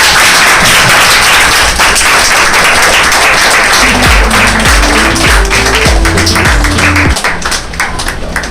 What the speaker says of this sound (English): So please welcome him with a big round of applause.